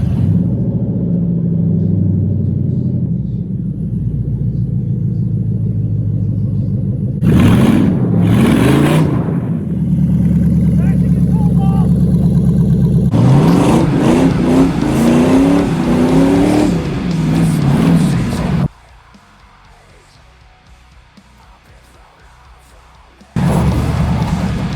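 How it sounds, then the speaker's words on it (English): A budget-built rat rod hot rod engine on a test drive, with loud rumbling revs and acceleration surges that rise and fall, then a sudden quieter stretch before the engine roars again near the end. "So let's go take it for a test drive again and see what happens."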